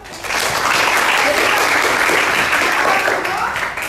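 Classroom applause for a student named Carlo, a burst of many hands clapping together that swells quickly, holds loud and steady, then tapers slightly at the end.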